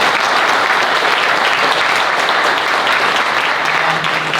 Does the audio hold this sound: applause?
yes